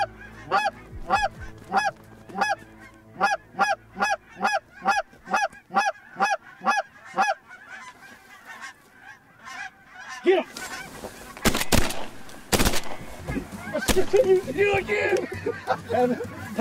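A waterfowl flock honks in a regular rhythmic series of goose-like calls during a hunt, followed by loud sharp gunshot bursts and excited nearby voices talking.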